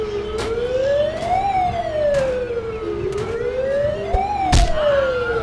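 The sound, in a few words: ambulance siren in the video game Dude Theft Wars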